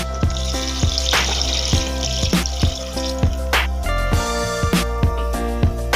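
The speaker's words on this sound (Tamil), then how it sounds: "இப்போ கரைச்சி வச்சுருக்கிற புளி தண்ணியை ஊற்றிக்கலாம்" Tamarind water is poured into sautéed tomatoes in a pan, giving a steady wet splashing pour with sizzling frying underneath and intermittent clinks of a utensil, heard close and without talk.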